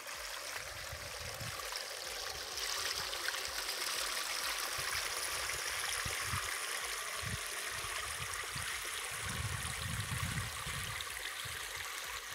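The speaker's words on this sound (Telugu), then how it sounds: "సో ఇలా మనకు వాటర్ ఫ్లో అయితే ఉంది రోడ్డు పక్కన" Rainwater running down from a hillside and flowing along the edge of a road near a hill temple in Telangana after overnight rain, a steady broadband rush that continues throughout with no talk.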